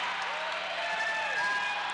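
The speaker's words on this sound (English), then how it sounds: "big cheering fans from both schools" A high school basketball crowd cheers after a made free throw in a Snowflake Lobos versus Show Low Cougars game: a steady, dense wash of cheering and applause that holds for the full two seconds.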